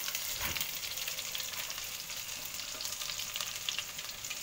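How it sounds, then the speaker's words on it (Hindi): Garlic frying in a pan with cumin seeds and black pepper for mushroom masala: a dense, even hiss of hot oil fills the clip, close and continuous, with no voices. "लहसुन को थोड़ा भूनेंगे"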